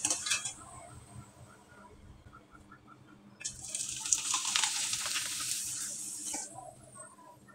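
Leaf-shaped rice-cake pitha fry in hot oil with a quiet, close sizzle and light utensil clinks, swelling into a louder, brighter hiss for a few seconds in the middle before settling again.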